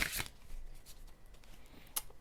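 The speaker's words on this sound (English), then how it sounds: "So let's shuffle." Tarot cards being shuffled by hand: brief riffling and flicking rustles, close and fairly quiet, with a couple of sharper snaps and no talk.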